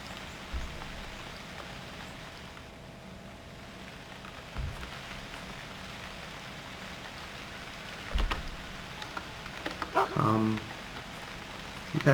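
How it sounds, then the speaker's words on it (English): Rain in the survival game UnReal World, a low continuous patter with occasional thuds and a brief tonal game sound near the end. "Started raining."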